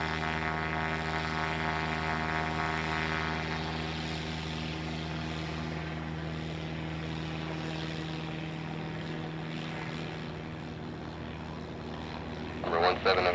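Radial propeller engines of the B-17 bomber Aluminum Overcast drone steadily in a loud, continuous, throbbing hum before takeoff, with the engine tone shifting slightly partway through and a brief radio voice near the end.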